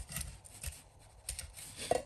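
A knife slices cleaned raw prawns open down the middle, giving soft, close scraping cuts in a few brief strokes against a quiet kitchen background.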